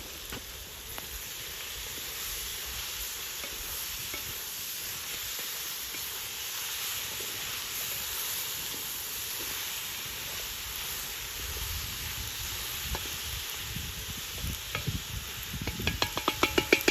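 Vegetables, sweet peppers and fresh tomatoes, sizzle steadily in a pot for plov while a utensil stirs them, with scraping and clinks growing busier toward the end; no talking.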